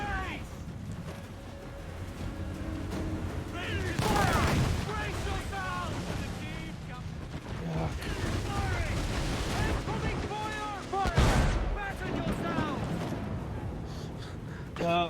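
Ship mortar and cannon fire in Assassin's Creed IV: Black Flag, heavy booming blasts breaking out amid a naval battle in stormy weather, with people talking and gasping between the louder explosions.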